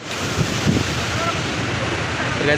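A river swollen with a great volume of water gives off a steady, dense roar of rushing flow, mixed with gusty wind buffeting the microphone throughout.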